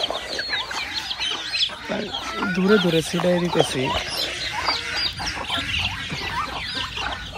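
Chickens and young chicks cluck and peck close by as feed is scattered for them in a yard, with ducklings nearby and a person talking over the busy flock.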